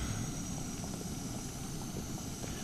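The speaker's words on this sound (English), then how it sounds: "jet boil's on the go." A Jetboil camping stove burns at a wild camp in the Welsh hills, giving a steady, close roaring hiss that holds level and unbroken throughout.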